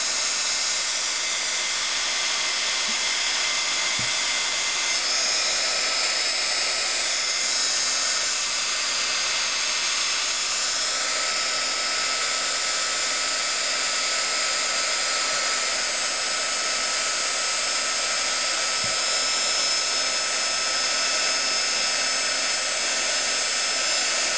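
Heat embossing tool blowing a steady, loud hair-dryer-like whoosh with a high whine as it heats and melts embossing powder on a leaf design, continuous and close throughout with no talking.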